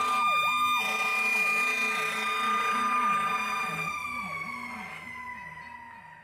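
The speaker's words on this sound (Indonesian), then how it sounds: "Ada satu lagi pemadam kebakaran." A toy fire truck sounds its electronic siren, a loud wailing two-tone pattern with bright high harmonics running steadily and close, fading slightly toward the end, with no talking.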